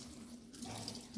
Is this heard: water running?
yes